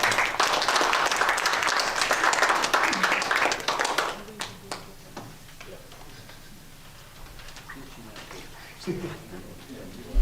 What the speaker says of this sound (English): one more round of applause for Jessica Cuello